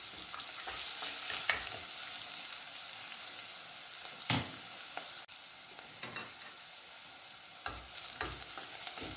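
Onions and spices sautéing together in a pan for a Sri Lankan white pumpkin milk curry, a quiet continuous sizzle with occasional sharp scrapes and knocks of a spoon against the pan.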